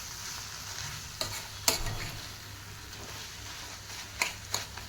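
Spices with coriander powder being roasted for a restaurant-style base gravy: a steady low sizzle with a few sharp scrapes of a spoon against the pan, no voices.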